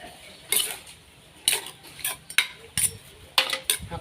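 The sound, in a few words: scooping food onto a plate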